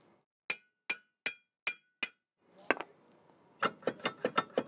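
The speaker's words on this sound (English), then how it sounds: "I'm gonna go ahead and hit it a couple times with the hammer" Five sharp metallic hammer strikes at an even pace on a stuck rear brake part of a BMW E30, then a pause with some rustling, followed by a quicker burst of ringing hits.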